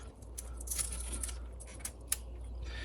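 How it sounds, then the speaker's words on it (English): Adhesive tape pulled off inside an iPad A1709/A1701 during a home button repair: brief, close, faint crackling and peeling ticks in a few short bursts over a low steady hum. "First step is let's pull out this tape."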